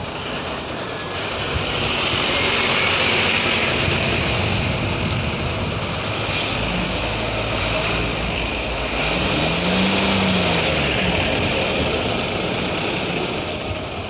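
A Tata truck engine revs hard as it struggles to climb a slope, a loud sustained roar that swells and eases in long surges with throaty knocking undertones, close by and with no talk.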